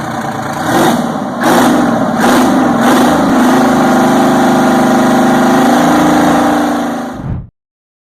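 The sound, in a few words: Detroit Diesel 12V71 diesel engine running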